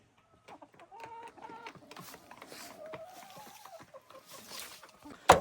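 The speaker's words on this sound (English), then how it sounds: "Chickens." Chickens cluck and chatter inside a backyard coop on a woodland homestead in Canada, a close stream of short calls and murmurs, ending with a sudden loud clatter.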